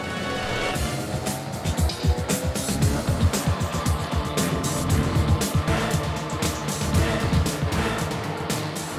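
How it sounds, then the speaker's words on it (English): Audi Sport TT Cup race cars roar around the Zandvoort circuit among the dunes, engines loud and close with rapid revving, gear changes and sharp bursts as cars sweep past. "the young drivers start their engines in the dunes of Zandvoort"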